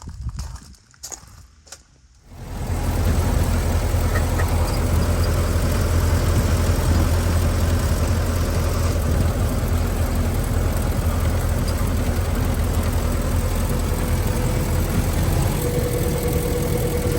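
An antique truck engine starts up after a few clunks and then runs loud and steady, a rough low rumble continuing without pause during a ride.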